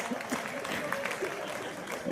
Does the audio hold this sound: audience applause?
yes